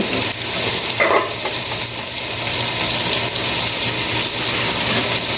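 Vegetables with seasoning cubes stirred in a sizzling pan for pancit, a steady frying hiss with a few scraping stirs of the utensil, close and continuous without talk.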